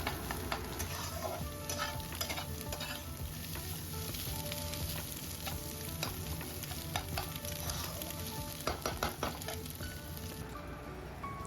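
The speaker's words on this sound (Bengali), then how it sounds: "এদিকে আমি পেঁয়াজটা ভাজা করে নিচ্ছি।" Onions frying in a pan with steady sizzling throughout, broken by repeated scraping and clinking of a spoon stirring them, close and continuous with no talk.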